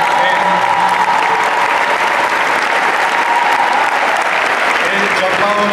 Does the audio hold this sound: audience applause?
yes